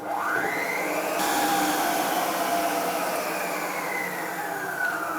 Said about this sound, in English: So while you allow that to mix for about 10 minutes, you can off your mixer.